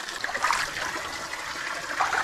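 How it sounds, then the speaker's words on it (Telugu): Spring water near a forest temple flows and trickles in a constant, close wash of splashing that stays at an even level throughout. "ఇంకో ఇక్కడ నుంచి వస్తున్నాయి వాటర్."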